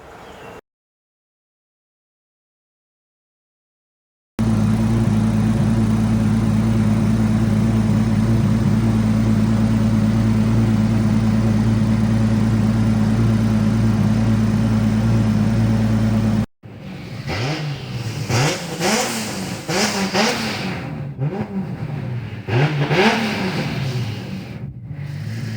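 A car with a JZ engine idles with a steady, loud drone after a short stretch of silence, then revs repeatedly in rising and falling bursts, with no voices.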